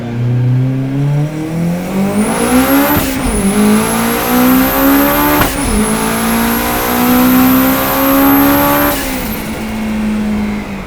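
A 700hp Honda S2000 accelerating hard with wheelspin, its engine screaming as it climbs through the revs, with sharp breaks at the gear changes and a high whine running throughout, loud and close.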